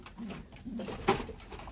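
Pigeons in a loft give soft, low cooing in short rounded phrases against faint background rustle, with one brief louder sound near the end.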